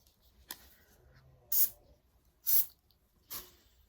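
A room scent spray hisses in three short, sharp bursts about a second apart, close by, following one fainter puff at the start, with quiet in between.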